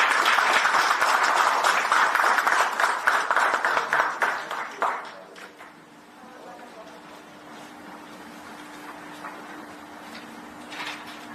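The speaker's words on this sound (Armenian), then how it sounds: "Ես առաջարկում եմ բոլորին ծափահարել ֆրանսիացի մեր գործընկերներին աջակցության համար։" Conference audience applauds French colleagues, a lively round of clapping that fades away after about five seconds, leaving a quiet hall with faint room noise and a low hum.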